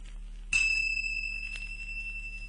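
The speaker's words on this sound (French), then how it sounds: "Elle fera tinter ses petites cloches comme ceci." Little bells tinkle once as a page-turn signal in a French children's audiobook, a bright sharp chime with a ringing tone that slowly fades.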